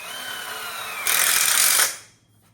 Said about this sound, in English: we finish screwing the other end of the VTs here, nice and easy